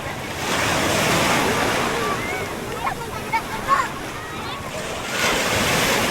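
Sea waves wash onto the shore with a steady roar and wind buffeting the microphone, a few brief splashes and faint voices in between.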